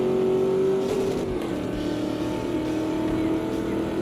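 A rally car engine in the WRC video game on the rough Kenya Rally stage holds a steady drone under continuous near noise, with a faint revving pitch that dips then levels off across four seconds.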